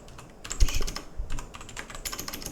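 Rapid, irregular clicking of fingers typing on a computer keyboard, close and fairly quiet, with a few louder key strikes among quicker taps and no talking.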